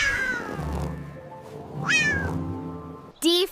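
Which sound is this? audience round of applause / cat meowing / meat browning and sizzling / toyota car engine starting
cat meowing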